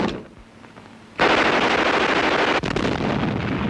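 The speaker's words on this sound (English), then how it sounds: "Machine gun bullets search for any seeking escape." Machine gun fire on the Kokoda front line in jungle warfare: after a quiet stretch, a sudden loud, sustained burst of rapid gunfire rattles on, briefly breaking before resuming, harsh and close.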